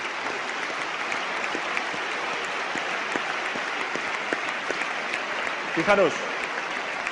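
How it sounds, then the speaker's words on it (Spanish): Sustained applause from a political conference audience in Spain, given as a tribute to the economist José Luis Sampedro. Dense, steady clapping fills the whole clip, and a brief spoken word breaks through near the end. "y para el que os pido que demos un aplauso."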